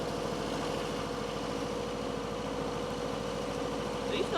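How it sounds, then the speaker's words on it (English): Farm tractor engine idling steadily nearby during ice storm preparations, a continuous low rumble with a regular pulsing throb throughout, while people talk over it. "get on the tractor and pull it up a little"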